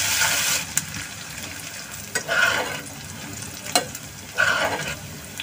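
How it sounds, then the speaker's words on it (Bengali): Chopped onions and green chilies frying in hot oil, a steady close sizzle broken by a few sharp scraping stirs of a spatula in the pan, with no talking. "এখন আমি পেঁয়াজ মরিচগুলোকে একটু ভেজে নিব"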